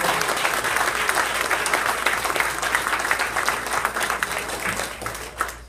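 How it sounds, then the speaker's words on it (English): A comedy club audience applauds loudly and steadily, dense clapping filling the whole stretch without a break. "Give me a round of applause."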